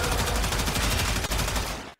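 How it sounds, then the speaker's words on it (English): A Gatling-like rapid-fire gun in the Warframe video game fires a dense, continuous burst of shots, loud and close, with no talking over it. "It feels like a Gatling gun."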